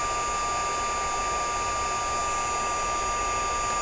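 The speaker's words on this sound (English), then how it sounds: "just heat it from the top a little bit" A heat tool blows hot air over a paper craft piece, a steady, even whoosh with a thin whine that holds level throughout, alone and with no talk.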